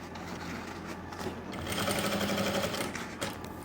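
An electric sewing machine stitches along the margin of a pair of Korean-style pants, a steady, fast mechanical whir close by that runs throughout and rises slightly in speed midway.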